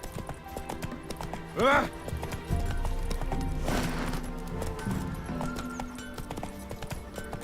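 Horse hooves clip-clop steadily in The Witcher 3 video game, joined by a brief whinny and a rider's short shouts over a busy game soundscape.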